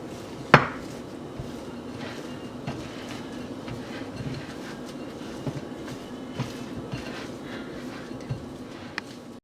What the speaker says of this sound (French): On va juste tout mélanger.